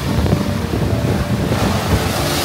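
Ocean waves crashing on the shore at Pattaya, Thailand, on a windy day, a loud continuous roar of surf mixed with wind buffeting the microphone, with no talking.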